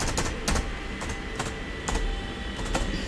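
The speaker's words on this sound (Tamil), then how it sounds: "ஸோ நான் நோட் பேடை வந்து டைப் பண்ணிடுறேன்." Rapid typing on a computer keyboard as a Java program is entered into Notepad, with close, clear key clicks in an uneven stream and occasional heavier strikes, and no speech.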